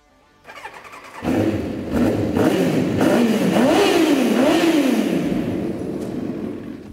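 A Kawasaki motorcycle with an aftermarket Musi exhaust starts up and revs repeatedly, its loud throaty exhaust rising and falling in pitch several times before settling.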